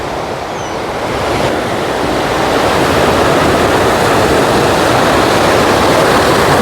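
Loud, steady roar of sea surf breaking on the shore, mixed with gusting wind buffeting the microphone and building slightly in strength throughout.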